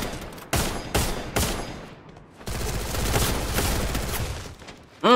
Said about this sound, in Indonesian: Tembakan demi tembakan terus dilakukan.